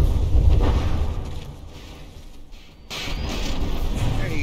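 Warship cannons fire during a battleship duel in the game From The Depths, heavy booming blasts merging into a continuous deep rumble that briefly dips before swelling again.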